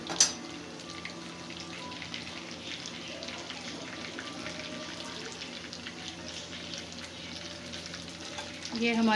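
Gola kabab of raw mince frying slowly in a kadhai over a low flame, a soft steady sizzle with light bubbling and a brief clatter at the start, swelling slightly near the end.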